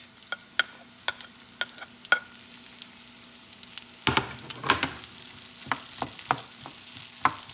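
A medium chopped onion sautéing in a pan: light crackle with scattered utensil clicks, then louder and busier sizzling after a few seconds.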